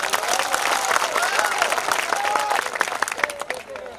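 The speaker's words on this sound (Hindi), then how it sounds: "तो जोरदार ताली बजाएं।" Audience at a Narmada Jayanti bhajan programme breaks into loud applause, dense clapping sustained throughout with some crowd noise and a voice over it.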